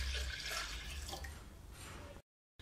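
Water is poured into a pot of food being prepared for Ramadan, a brief close splashing trickle that ends abruptly in silence.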